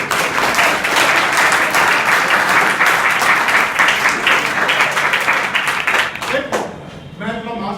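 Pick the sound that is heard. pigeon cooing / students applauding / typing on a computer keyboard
students applauding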